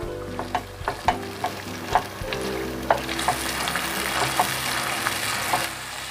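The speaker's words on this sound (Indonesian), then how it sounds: "Diaduk-aduk sampai sambelnya ini warnanya berubah lebih gelap lagi ya." Sambal terasi is stir-fried in a pan with sugar and mushroom stock, giving a continuous close sizzle broken by irregular clacks and scrapes of a spatula stirring through the paste.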